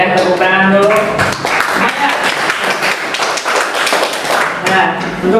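Students in a physics classroom break into applause, a dense burst of many hands clapping that carries on steadily for several seconds, with voices mixed in.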